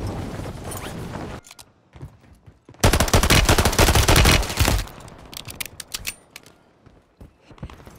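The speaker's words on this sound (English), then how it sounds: "Taking effective fire!" Bursts of rapid automatic gunfire in a military shooter video game, a loud sustained volley in the middle flanked by shorter sporadic shots and clatter, with no talk.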